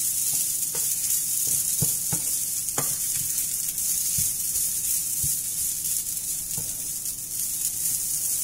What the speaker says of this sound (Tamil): தேங்காய் நல்லா பொன்னிறம் ஆகுற வரைக்கும் நல்லா வறுத்துக்குங்க.